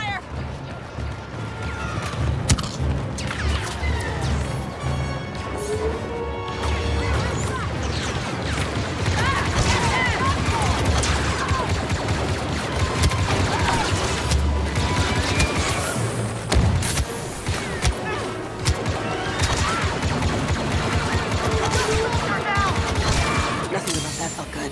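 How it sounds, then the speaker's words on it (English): Blaster fire in the Star Wars game Battlefront 2 during a firefight, dense bursts of rapid shots with crashes and booms over a constant din, while voices shout orders at times. "Blast it! Open fire!"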